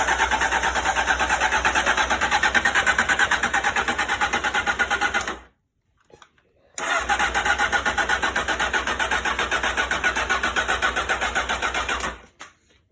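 A Honda CBR motorcycle engine cranks on the electric starter in two long, rhythmic bursts of about five seconds each, separated by a brief silence, churning steadily without catching and loud throughout.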